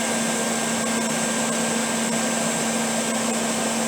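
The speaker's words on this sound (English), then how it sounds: "It's actually burning away this edge along here with the actual welder." A welder burning away a metal edge while building up a weld in a workshop, giving a steady, loud hissing buzz with a constant tonal hum and faint periodic crackles throughout.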